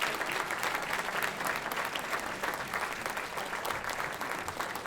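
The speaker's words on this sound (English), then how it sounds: "Applause, people, applause." Sustained applause from an audience at an Elks banquet in Lawrence, Massachusetts, greeting a high school senior's scholarship award, steady dense clapping throughout.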